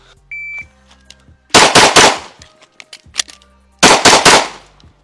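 A shot timer beeps, then two fast strings of gunshots crack loudly during a timed shooting drill, separated by a pause for a reload with scattered metallic handling clicks.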